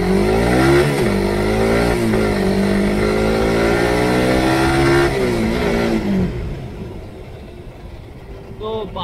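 A motorcycle rides along a road with its engine droning loudly and steadily, the pitch rising and falling as it speeds up, before fading lower near the end.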